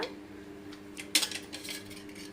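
A pan set down on a kitchen stove while making ginger chutney, giving one sharp metallic clank midway, followed by a few lighter clinks over a low, steady background hum.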